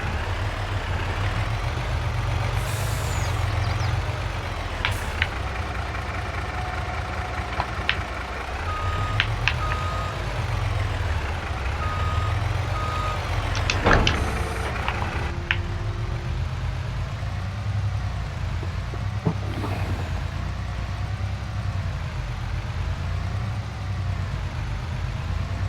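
Big Mac truck engine in Farming Simulator 22, a steady low rumble running throughout with a few beeps and tonal game sounds layered on top.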